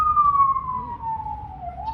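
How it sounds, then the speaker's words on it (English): Emergency siren passing outside during an indoor conversation, a single wailing tone slowly falling in pitch over a low rumble of traffic, moderately loud and steady throughout. "I've got a big siren going by"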